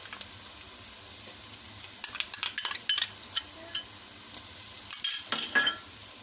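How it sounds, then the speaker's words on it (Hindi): Ginger garlic paste fries with softened onions in a pan, a quiet steady sizzle broken by bursts of metal spoon scraping and clinking against the pan as it is stirred, with no voices. "अब हम अदरक लहसुन को हल्का सा बस 5 सेकंड के लिए फ्राई कर लेंगे।"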